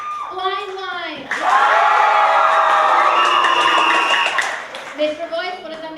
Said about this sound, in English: We're going to applaud loudly for both teams, just louder for the one we want to win the next 5 points.